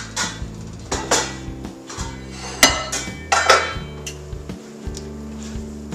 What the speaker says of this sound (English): I'm going to put this in a big pot that I normally use for cooking